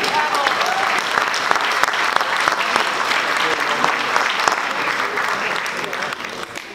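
Audience applauding at an award ceremony honoring a Peruvian rock artist, a dense, steady wash of many hands clapping that holds at full strength throughout and eases slightly near the end.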